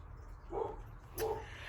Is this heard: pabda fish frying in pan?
no